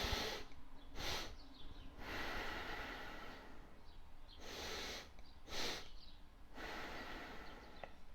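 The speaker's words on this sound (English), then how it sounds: "You're going to take one inhale to where you feel like you're full, and then you're going to try to sneak in another inhale." A demonstration of a breathing protocol: repeated double inhales through the nose, each followed by a long, steady exhale. The breaths are close, audible and rhythmic, with no talking over them.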